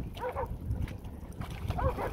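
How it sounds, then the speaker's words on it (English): A dog at the beach gives a few short whimpering yips at the start and again near the end, moderately close, over soft outdoor background noise. "Happy dog."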